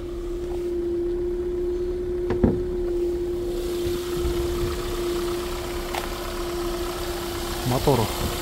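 A used car's engine idles on a street in Incheon, Korea, a steady even hum close by with a few light clicks and knocks.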